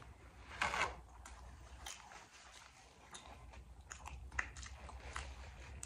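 Close, quiet chewing of sushi topped with masago and sriracha, soft crunchy bites and wet mouth sounds repeating irregularly over a few seconds.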